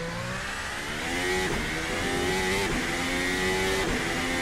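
A race car engine revs hard and climbs through gears out of a hairpin, loud and close, with rising harmonic whines throughout.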